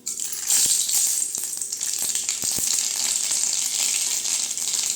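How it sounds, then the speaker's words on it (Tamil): Mustard seeds and urad dal fry in hot oil in a kadai, a loud steady hiss of sizzling with several sharp pops and crackles as seeds burst, close and alone. "வடிச்சட்டி சூடானது எண்ணெய் ஊற்றி வச்சுட்டேங்க. இப்போ கடுகு உளுந்தம் பருப்பு சேர்த்துக்கலாம்."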